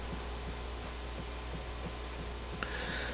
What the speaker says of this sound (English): Sounds like my neighbors are pounding on their fence.